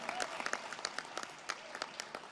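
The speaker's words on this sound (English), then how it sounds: "a round of applause." Audience at a Democratic political rally applauds for a congressman, steady light clapping with some louder individual claps, fairly distant and moderate in level.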